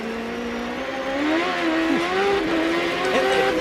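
Onboard sound from a 2007 Champ Car race car at Las Vegas: a loud, steady engine drone that rises slightly in pitch as the car accelerates, close and continuous, with no talk over it.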